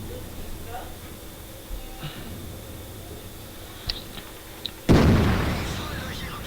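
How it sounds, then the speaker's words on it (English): A single heavy tank cannon shot in World of Tanks, fired during an E75 battle, lands as one loud booming blast with a decaying rumble after a stretch of quieter background and faint clicks, while someone talks. "I shoot him in the top of his turret where the flat spot is"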